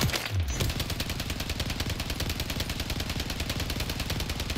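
An STG-44 assault rifle fires full-auto at a video game shooting range, a loud, rapid, unbroken stream of evenly spaced shots that runs through the whole magazine without pause.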